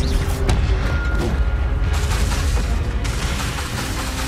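An Expelliarmus spell being cast in Hogwarts Legacy: a loud, dense burst of magical blasts and booming impacts, with sharp cracks near the start and a sustained crackling roar continuing throughout.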